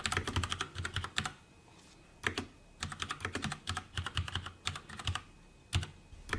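Someone types a message on a computer keyboard: bursts of quick, crisp key clicks in irregular runs, separated by short pauses, close and clear with no talking.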